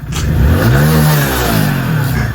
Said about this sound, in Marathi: फायनली गाईज आता गाडी चालू झालेली